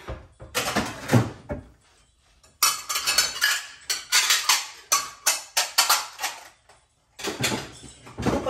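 Dishes, plates and cups being handled and stacked after a dishwasher cycle, sharp ceramic clinks and clatters in clustered bursts separated by quiet pauses, close and distinct.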